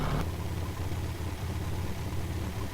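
A car engine idles in The Crew racing video game, a steady low rumble with an even mid-range hum that holds unchanged for a few seconds, with no voices.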